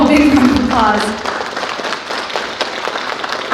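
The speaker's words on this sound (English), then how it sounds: "big round of applause" Audience at a school spring concert clapping in a crowd, loud scattered applause filling the room, with a voice and some chatter over the start before the clapping thins out.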